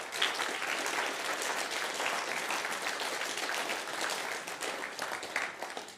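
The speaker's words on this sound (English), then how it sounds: "can we give them a round of applause?" Steady, full applause from a church congregation during a Pathfinders service at a Seventh-day Adventist church, many hands clapping together in a dense, even wash that holds through the whole stretch.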